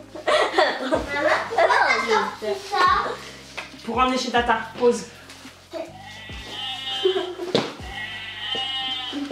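A person imitates a sheep's bleat with several wavering, nasal cries spread through the clip, close by and mixed with someone talking and bursts of chuckling and laughter.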